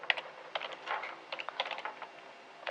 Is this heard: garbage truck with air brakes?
no